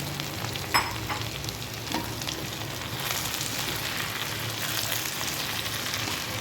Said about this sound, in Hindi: आलू और ये हम डाल के इसे थोड़ा सा भून लेंगे प्याज के साथ।